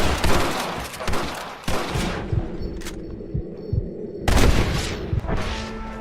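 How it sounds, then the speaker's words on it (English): Rifle and pistol shots in a Red Dead Redemption firefight crack out in irregular single bangs and short bursts, loud and close, with quieter gaps between the volleys. "Open fire! Take out those snipers in the window!"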